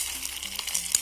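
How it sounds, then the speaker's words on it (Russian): Food frying in a pan outdoors at a picnic crackles and sizzles steadily for a second, with dense small pops close by. "Вот так потихонечку вот, жарится."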